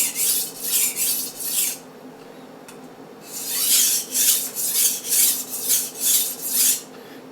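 A chef's knife rasps back and forth across a Japanese water stone in steady rhythmic strokes, a short burst of three, a pause, then a longer run of about seven even passes, close and clear with no talk.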